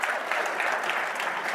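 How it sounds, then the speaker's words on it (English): Audience applause at a BEMA convention keynote address, a steady, dense clapping from a crowd sustained evenly throughout without pause. "we can give you a round of applause as well"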